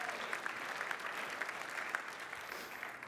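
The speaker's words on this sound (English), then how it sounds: "Round of applause for yourselves." A TEDMED conference audience claps for itself, sustained and even applause with crisp individual claps standing out, fairly distant and unbroken by talk.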